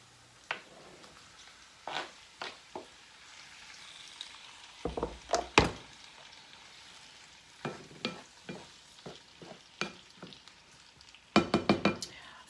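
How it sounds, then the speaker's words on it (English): Cut tomatoes tipped into onions and garlic sautéing in olive oil, giving a low sizzle broken by repeated spoon scrapes and clacks against the pan, ending in a quick flurry of taps, with no voices. "Now we're going to add all of the tomatoes that were cut up."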